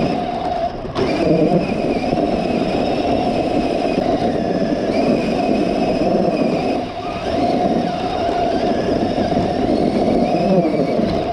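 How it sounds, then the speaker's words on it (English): Clodbuster RC truck driving with only its front motor spinning, a loud constant high electric motor whine with a steady tone, briefly dipping and resuming. "I had the rear engine working for a bit, but now it's just the front spinning."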